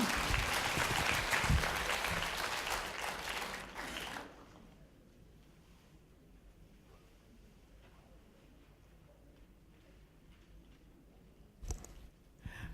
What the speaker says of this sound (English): can we give a round of applause to welcome Dr. Wong, everybody?